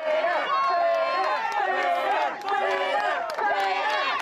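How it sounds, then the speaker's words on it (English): An angry crowd of protesters at a Justin Trudeau campaign appearance in Windsor, many voices shouting and chanting together loudly and continuously, dipping briefly before surging again. "another Trudeau appearance, another angry crowd"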